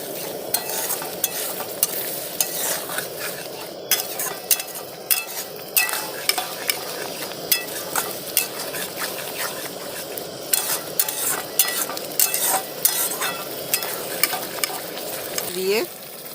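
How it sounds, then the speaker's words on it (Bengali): Spice paste for doi katla, the Bengali yogurt fish curry, sizzles in a pan as it is stir-fried, with a steady frying hiss punctuated by regular scraping stirs and clinks of a spatula, close and fairly quiet. "ভালো করে মশলাটাকে কষিয়ে নেবো কিছুক্ষণ"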